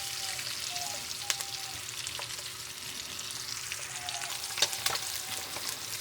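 Eggs frying in masala for egg korma, a soft continuous sizzle with a few sharp spatula scrapes and taps, no talk.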